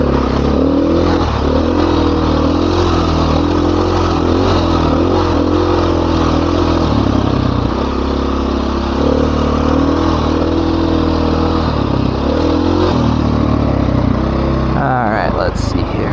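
Dirt bike engine droning and revving continuously as it rides Rampart Range Trail 662 in Colorado, loud and close with rattling clatter, while a rider talks over it.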